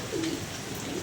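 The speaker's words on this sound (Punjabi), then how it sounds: "ਵੱਡਾ ਹੀ ਕਬੂਤਰ ਅਸੀਂ ਫੜ ਲਿਆ" Large pigeon giving a single short, soft coo close by, low and muffled against a steady background hiss.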